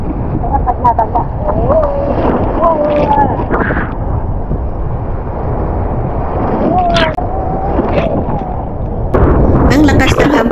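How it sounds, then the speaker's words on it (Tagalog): Strong waves crash against the shore at the sea in Boracay, heavy surging thumps and wind-blown wash mixed with people talking nearby. "Ang lakas ng hampas ng alon"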